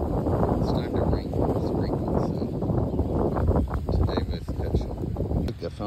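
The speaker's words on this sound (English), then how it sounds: "it's getting way too windy and it's time to rain" Strong wind buffets the microphone in a constant rough roar, with a person talking underneath.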